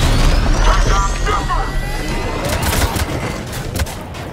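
Gunfire from the Mass Effect 3 video game, a loud, continuous barrage of shots and blasts layered with other battle noise and effects, with speech heard briefly under the din.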